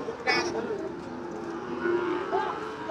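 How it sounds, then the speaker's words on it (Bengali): At a border-area cattle market selling bulls, a cow lets out a drawn-out moo, with faint voices murmuring in the background. "দেখতে পাচ্ছি খুব সুন্দর সুন্দর গরু আছে"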